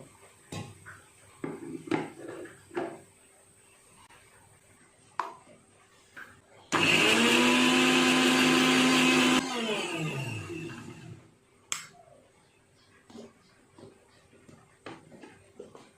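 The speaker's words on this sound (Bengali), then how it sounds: "আদা রসুন একটু মিক্সিতে পেস্ট করে নেব।" A mixer grinder whirs loudly for about three seconds, grinding ginger and garlic cloves with a little water into paste, then winds down, with quiet kitchen clatter before and after.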